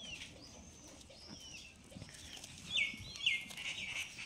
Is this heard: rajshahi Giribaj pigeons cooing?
yes